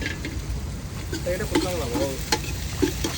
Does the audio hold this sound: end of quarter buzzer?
no